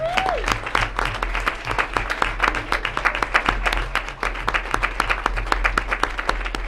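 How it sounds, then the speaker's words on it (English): Crowd at a city council meeting gives a sustained round of applause honoring a youth sports team and its coaches, steady, dense clapping filling the whole stretch at moderate volume. "Now we can applaud them. Big round of applause."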